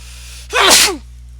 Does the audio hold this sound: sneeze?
yes